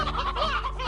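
Briar hens from the video game Slime Rancher give a quick burst of close, chattering clucks lasting about a second.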